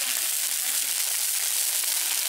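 Large shrimp sizzle in a pan in a village kitchen, with a steady, bright hiss of frying oil that continues without a break.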